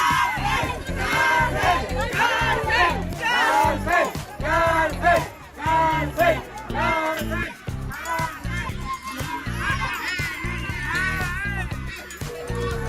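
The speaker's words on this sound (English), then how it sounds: "when she finally got down, was booed by an entire crowd" A large crowd at a Mexican pyramid boos and jeers a tourist, a loud, dense roar of many voices shouting and yelling that swells and dips throughout.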